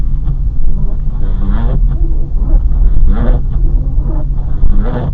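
Acura RSX DC5 on Bridgestone Blizzak snow tires driving through snow at night, a steady loud engine and road rumble from inside the car with faint muffled voice-like sounds over it.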